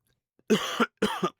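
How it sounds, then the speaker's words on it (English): Two harsh coughs in quick succession, close and loud, each a short burst with a brief gap between them. "I'm gonna cough again."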